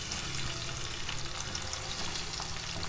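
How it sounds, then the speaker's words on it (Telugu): Sliced onions fry steadily in oil in a pan for a Dhaba-style paneer sabji, a continuous close broadband sizzle with faint stirring scrapes and no talking. "ఇలా వేసుకున్నాక ఈ ఉల్లిపాయలు మాత్రం అండి బ్రౌన్ కలర్ వచ్చే వరకు వేయించుకోండి"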